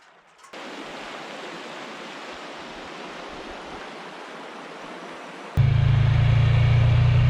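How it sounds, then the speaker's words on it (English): Fast-running river water during spring breakup in remote backcountry, a steady broadband rush that starts abruptly and continues loudly, joined near the end by a heavy low droning hum. "the water is really running fast now"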